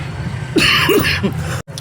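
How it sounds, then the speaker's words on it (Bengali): A person coughs a few times in quick succession while speaking, close and loud, over a low steady background hum, ending in a brief cut to silence. "এই একটু কাশি চলে এসেছিলো একভাবে কথা বলতে বলতে"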